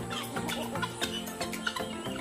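Ayam Ketawa (laughing chickens) cluck and chatter in rapid, overlapping bursts, close and fairly loud, with a continuous flock din and no talking.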